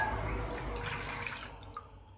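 Soaked rice for idli batter being rinsed in a vessel of water, a short burst of sloshing and swirling liquid, fairly close and soft, fading out toward the end.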